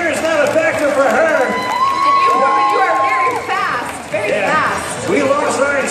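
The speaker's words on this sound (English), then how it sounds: "Round of applause for Janina." A game-show studio audience cheers and shouts loudly in a sustained, dense wash of crowd noise with whoops rising throughout, close and full, with a host's voice breaking in over it.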